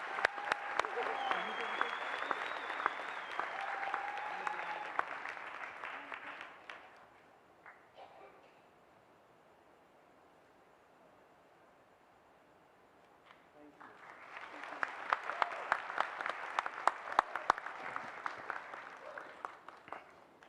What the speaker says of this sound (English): Give them a real round of applause.